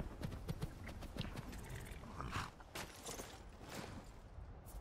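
Horse hooves clip-clop faintly in the video game Skyrim in a loose rhythm over a soft background bed, with a few brighter clicks and rustles mixed in.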